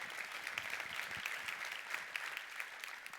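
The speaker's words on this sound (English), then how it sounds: "Let's give a round of applause to Nadia." A crowd applauds Olympic gymnastics champion Nadia Comaneci at a student sports panel event; steady, moderately distant clapping with occasional sharper claps.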